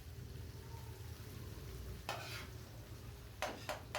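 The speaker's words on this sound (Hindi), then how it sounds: "ये देखिए तो हम अच्छी तरह मिर्च की बुनाई करेंगे ताकि मिर्च हमारी कच्ची ना रहे" Chillies stir-fried in a pan for tawa qeema, with a steady low sizzle and a few scraping stirs of a utensil against the metal. The sound is close but fairly quiet, and no one speaks.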